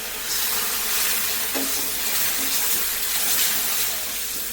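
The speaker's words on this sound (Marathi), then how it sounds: "थोडंसं पाणी घालायचं आहे गरमच केलेलं पाणी आहे" Hot water poured into frying masala in a pan while cooking a vegetarian thali, a continuous loud rushing hiss and bubbling sizzle with a few clinks.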